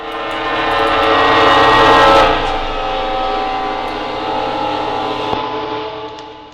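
A train in the horror video game Lost in Vivo gives a loud, steady rumble with a held, tonal horn-like drone, swelling and then easing off, with a brief sharp knock near the end.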